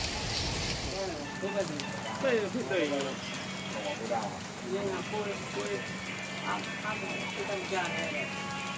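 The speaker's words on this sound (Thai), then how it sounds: "ใช่ฝนตกฝนตกหนักนั่นเนี่ย" Heavy rain pours steadily in a dense, hissing wash over a boatyard where a fishing boat is up on the slipway for repairs, while people talk over it.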